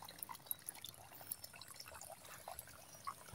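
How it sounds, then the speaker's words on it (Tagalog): Water rushes and gurgles steadily, a strong, continuous flowing creek current heard up close with small splashes throughout. "So, masyadong malakas yung"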